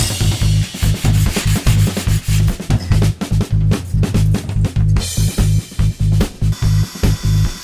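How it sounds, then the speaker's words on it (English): A PCB is rubbed with sandpaper by hand in quick, regular back-and-forth strokes, loud and close with no talking. "Just gonna sand it using a sandpaper."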